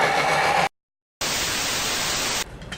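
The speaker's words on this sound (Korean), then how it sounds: "이거는 어, 성능이 많이 좋은 믹서기고요." A loud steady whir of a high-powered blender running, cut off by a half-second gap, then resuming as a dense, harsh grinding roar while blending potato and leek cream soup.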